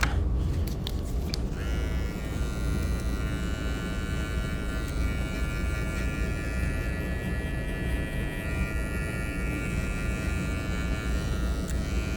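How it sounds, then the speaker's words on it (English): Electric clippers or a shaver buzz close and loud while a barber works on a flattop haircut in a barber shop. A few clicks at the start give way to a long, unbroken drone. "Okay, Nick, I'm gonna shave this here."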